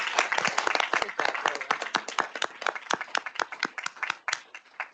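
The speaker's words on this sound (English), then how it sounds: "deserve a round of applause" A small group claps, sharp individual claps at first dense then thinning toward the end, close and clear.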